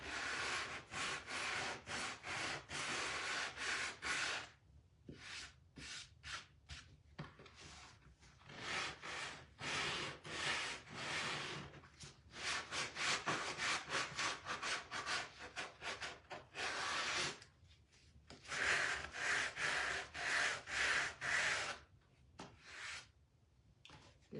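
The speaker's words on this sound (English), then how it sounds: "Sand this back a little bit." Wood sanded by hand, steady back-and-forth rasping strokes in repeated loud bursts separated by short pauses, close up with no talk.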